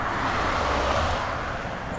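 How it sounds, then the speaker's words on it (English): Traffic on a road heard from beside it while walking, a steady broad roar of passing cars with a wind-like wash and no talking. "It's going to be car after car probably"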